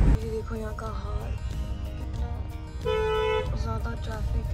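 Car horns blare in a heavy traffic jam, several overlapping toots and a long sustained honk near the end, over a low traffic rumble, with a voice talking in between.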